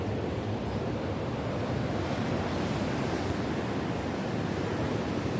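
Indian Ocean surf at the Knysna Heads in South Africa, a steady, continuous wash of breaking waves with some wind noise on the microphone, no voices.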